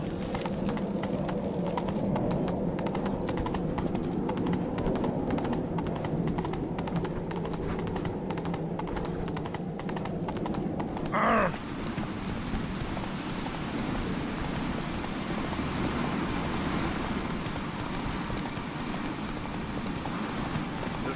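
A horse gallops along in The Witcher 3, its steady rhythmic hoofbeats running loud and continuous throughout over a constant game ambience.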